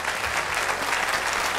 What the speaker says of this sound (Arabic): أحسنت تصفيق لأحمد